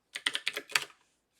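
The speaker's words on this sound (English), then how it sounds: "so you have to type in sudo" Seven quick, crisp keystrokes on a computer keyboard enter a sudo command, close and clear in a quiet room, followed by silence.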